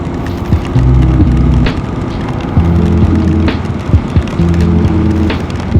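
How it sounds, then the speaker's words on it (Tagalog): Heavy rain pours steadily, a dense continuous wash of drops at a loud level, with an engine-like pulsing hum underneath and no voices. "Ay, lumakas ang ulan."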